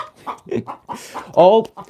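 Chickens at the coop cluck in short, close bursts, with one louder, drawn-out squawk near the end; the sounds come in quick irregular calls with quiet gaps between them.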